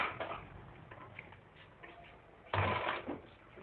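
A domestic sewing machine fitted with a single foot stitches close along a fabric edge of a dress. It gives a quiet mechanical patter with a louder burst near the end.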